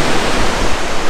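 A waterfall in a Turkish canyon pours with a steady, loud rushing roar that fills the whole stretch without a break, and no voices are heard.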